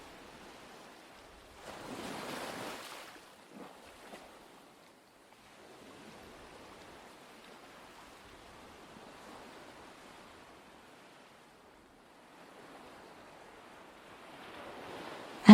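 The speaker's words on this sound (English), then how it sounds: "As the Atlantic waves break against the freezing shore of the west coast" Atlantic waves breaking on a freezing, snow-dusted west-coast shore, heard as soft distant surges of surf that swell and recede, with one louder wash early on and another rising at the end.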